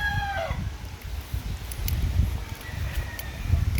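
A gamecock crows briefly at the start at a game farm in Agusan del Sur, Philippines, with another faint crow later, over rustling and low outdoor noise.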